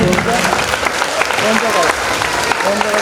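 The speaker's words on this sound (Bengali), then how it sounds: "আরো একবার সকলের কাছে একটু জোরে করতালি চেয়ে" An audience in a nearly full auditorium applauds at a cultural event, a steady crackle of clapping while a voice speaks over it.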